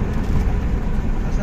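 A car driving at night near a village fair, its engine and road rumble steady and loud throughout, with a faint murmur that may be voices underneath.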